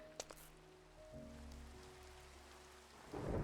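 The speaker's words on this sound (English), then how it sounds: "I did hear thunder" Thunder and rain in the Minecraft video game: a soft, steady patter of rain with low rumbling thunder rolling underneath, a couple of faint ticks early on and a louder wash swelling at the end.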